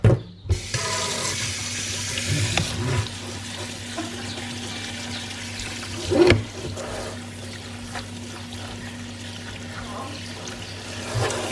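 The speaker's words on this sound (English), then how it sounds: "we're just going to dump the almonds through the strainer, and we're just going to give them a really good rinse" Water rinses soaked almonds through a strainer. A loud burst of running, splashing water opens the clip, then settles into a steadier, softer flow that continues to the end with no talking.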